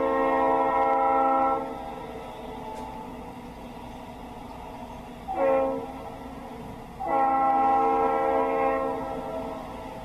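A Norfolk Southern eastbound manifest freight train's horn sounds in loud sustained blasts, fading briefly, then a short toot and another long blast, over a steady rumble of rail noise as it approaches and passes.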